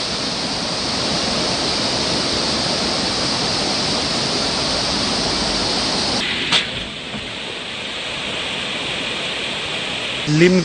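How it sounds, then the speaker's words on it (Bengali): A natural waterfall at Lingtham roars with a loud, constant rush of falling water, close by and unbroken, and a few faint bird calls come through near the end. "পাখির ডাক সঙ্গে ঝর্ণার আওয়াজ।"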